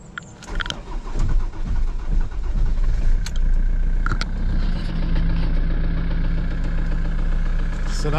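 Ford Transit diesel van engine cranking and starting after a no-start fault, with a few clicks and jangling keys, then settling into a loud steady close idle rumble; brief speech can be heard early on.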